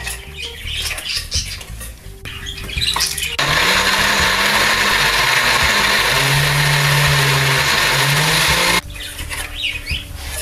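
A blender roars loudly for several seconds as it grinds peanuts into peanut butter, its motor pitch shifting slightly, between quieter stretches of clatter.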